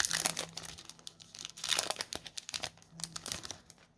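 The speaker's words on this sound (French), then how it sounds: "ça fait plaisir d'ouvrir des displays sans les ciseaux" Hands tear and crinkle the plastic wrap and cardboard of a Yu-Gi-Oh! booster display box without scissors, with close, irregular bursts of crumpling and ripping across several seconds.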